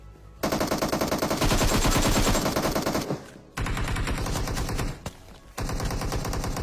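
Rapid automatic gunfire in the mobile battle-royale game PUBG Mobile, loud dense bursts of shots broken by two short pauses, with no talking.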